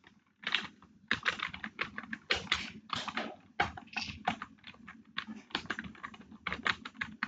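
Rapid, irregular clatter of keys on a computer keyboard during a grammar lesson, close and fairly loud in uneven bursts with short pauses, with no voices present.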